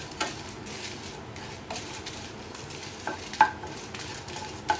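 Dried red chillies and tamarind roasting in a pan for peanut chutney give off a faint, dry sizzle, with a few soft scrapes and clinks from stirring now and then.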